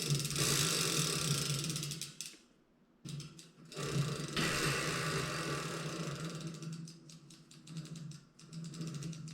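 A freshly oiled freewheel on a 10-speed bicycle under overhaul spins with a fast, continuous ratcheting buzz of pawl clicks. It is close and fairly loud, breaks off briefly midway, then resumes alone.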